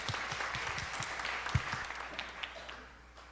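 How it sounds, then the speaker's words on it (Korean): A church congregation applauds, with scattered hand claps swelling into steady applause and then fading, heard from a moderate distance in a large room. "우리 박수로 듣도록 하겠습니다"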